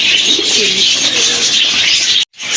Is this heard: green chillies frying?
no